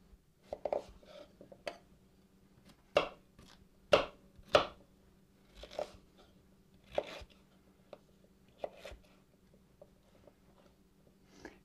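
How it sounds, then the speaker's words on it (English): A knife chops through potatoes on a cutting board in sharp, uneven thuds, a dozen or so irregular strikes with short pauses, close and fairly loud. "we're going to take a knife, we're going to chop up the potatoes"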